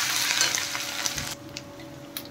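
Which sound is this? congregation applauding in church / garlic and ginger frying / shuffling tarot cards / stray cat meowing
garlic and ginger frying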